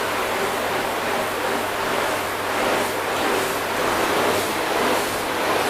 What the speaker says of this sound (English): It's a lot more water hits the panel.